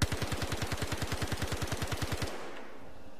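Rapid, evenly spaced gunfire from the Star Citizen video game, where a Behring sniper rifle is in use: a close, sharp burst of about twenty shots that stops abruptly and leaves a faint rumble.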